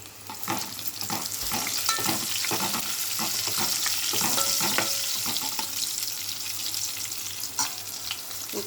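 Onions frying in a pan: a moderate continuous sizzle with repeated scraping taps of a spoon stirring, fairly close and with no voices.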